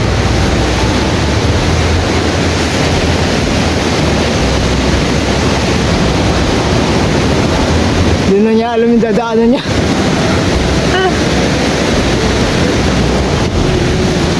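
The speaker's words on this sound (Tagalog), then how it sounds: "Malakas ang hangin." Steady broadband wind roar buffets the microphone throughout, with a person speaking briefly partway through.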